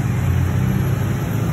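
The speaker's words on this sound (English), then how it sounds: "sorry about the traffic noise." Road traffic near a vegetable garden, with a car passing close by. A loud, steady engine rumble and tire hum fill the whole moment without a break.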